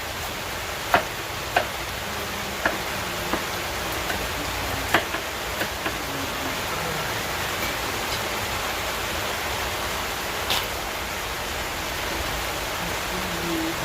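Steady rain pours outdoors around a BBQ grill, a dense even hiss filling the whole stretch, with a few sharp ticks and clicks scattered over it and no talking.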